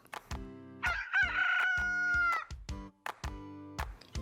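A cartoon rooster crows in a long, drawn-out call between clipped, toy-like musical beeps and tones, loud and close.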